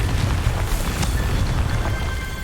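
A Confringo spell explodes in Hogwarts Legacy, a dense, loud rumbling boom that holds steady and fills the whole stretch with deep roaring noise.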